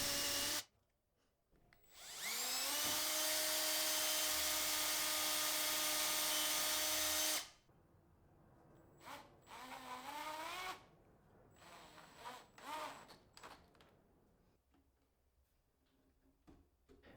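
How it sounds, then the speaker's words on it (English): A power drill whines steadily for about five seconds, then runs in several shorter bursts as it bores an oversized hole in walnut wood, with quiet pauses between. "here I'm drilling an oversized hole"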